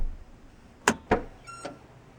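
A Toyota Camry LE's trunk release lever beside the driver's seat being lifted, giving two quick sharp clacks followed by a fainter mechanical release thunk, close and alone with no talk.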